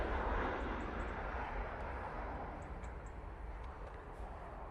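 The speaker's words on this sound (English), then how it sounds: "that's a Ryanair coming in from Cork" A Ryanair airliner on approach inbound from Cork, heard as a steady broadband jet roar that starts loud and fades gradually as it passes, with no other sounds on top.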